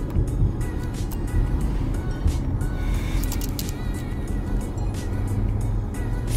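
A car driving on a road, with a steady loud engine and road rumble throughout and light tire and wind noise above it, and no voices.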